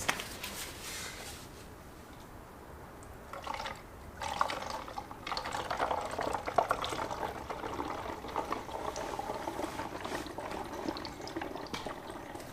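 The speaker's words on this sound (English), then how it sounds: "let's get this diluted in the actual Snowfoam Lance bottle" Ceramic car-care product is poured and diluted into a snow foam lance bottle, giving a soft, steady trickle and gurgle of liquid filling the bottle, close and moderately quiet, after a few faint handling sounds.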